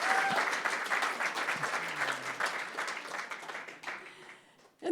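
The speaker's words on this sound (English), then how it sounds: "So please, let's just have another round of applause for Rena" A crowd at a mainstage book club performance applauds steadily, a dense wash of clapping that holds for several seconds and then fades out.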